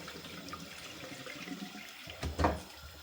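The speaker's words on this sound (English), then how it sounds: "I wash the Emmer wheat. I wash it until the water is no longer whitish." Emmer wheat grains being rinsed in water, with a quiet trickle and swish that builds into a louder splash near the end.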